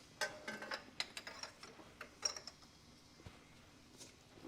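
A ratchet with a long 5/8 socket loosens a spark plug on a Porsche, giving quiet, uneven ticking clicks with faint metallic creaks, close and soft.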